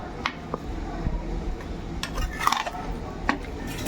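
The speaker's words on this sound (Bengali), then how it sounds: "মশলাটা দিয়ে নিচ্ছি দিয়ে এটাকে একটু ভালো করে নেড়ে কষিয়ে নেব" A spoon scrapes and clinks against a cooking pot while chicken biryani masala is stirred, with soft, irregular metallic taps and squishy thick-sauce sounds at low, close-up volume.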